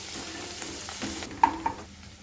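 Cumin, mustard seeds, dried red chilli, coriander and mint fry in a pan for paneer butter masala, a soft sizzle with a couple of sharp stirring clinks near the middle before it fades.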